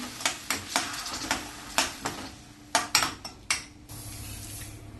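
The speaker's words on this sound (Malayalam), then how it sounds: "ഇതിളക്കി വഴറ്റാം." Soya chaap masala with freshly ground paste being stirred and sautéed in a pan at a dhaba-style home cook setup; a spoon scrapes and knocks against the pan in a series of sharp, close clacks, with no talking.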